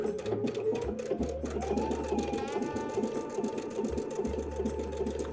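A sewing machine stitches around the edge of a leaf for a flower applique pillow, with fast continuous needle pulses broken by two brief pauses at the turns, close and moderately loud.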